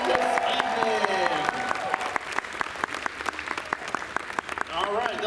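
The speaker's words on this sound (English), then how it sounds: "Another round of applause for the Journeyman this evening." An audience claps and cheers together at a DragonCon costume contest, a loud, dense burst of applause with scattered shouts and voices mixed in.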